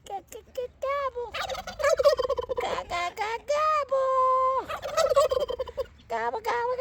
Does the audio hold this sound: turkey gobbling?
yes